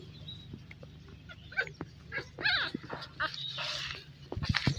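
Shih Tzu puppies, young enough to have just opened their eyes, whimper and squeal in a string of thin, high cries close by, overlapping and irregular, with brief yips at the end.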